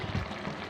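Water pours from a tumbler onto measured rice for a vegetable biryani, a short close splashing gush lasting under a second.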